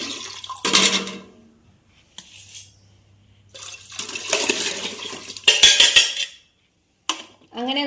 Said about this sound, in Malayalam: ആ പാത്രത്തിലോട്ട് ഇനി ഇത് പകർത്തി ഒഴിക്കാൻ പോവാം.